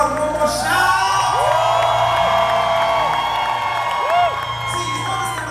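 A church crowd at a live gospel concert in Ukraine cheers, whoops and shouts continuously at close range, a loud sustained roar with rising individual yells.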